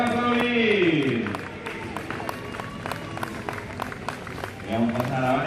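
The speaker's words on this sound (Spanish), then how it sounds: "Esos aplausos que tenían que ser moito máis sonoros" A crowd at the Pontevedra half marathon claps and applauds, a steady patter of hands from the audience, with a loud amplified announcer voice talking over it throughout.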